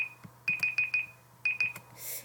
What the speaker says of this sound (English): Sorry, that's my timer.